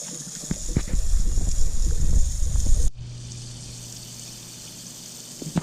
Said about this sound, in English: It's been about 10-15 minutes and the water is still running out of this tank.